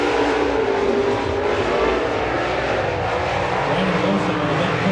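Modified race cars restarting at Salina Highbanks Speedway, a dense roar of several engines that stays loud and even throughout, heard from a distance with no clear single pass.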